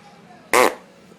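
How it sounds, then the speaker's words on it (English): A single short, loud, buzzy fart bursts out for a fraction of a second against a quiet indoor background, with no talking over it. "You fart?"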